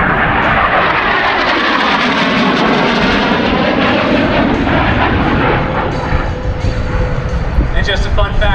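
A Harrier jet at an air show demo at MCAS Cherry Point directs thrust through its movable nozzles to hover, giving a loud, continuous roaring whine that overwhelms an announcer's voice.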